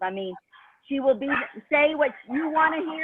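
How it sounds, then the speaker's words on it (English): Dogs bark and yip close by indoors while a person keeps talking, the barking mixed in under the speech. "Sorry about the dogs"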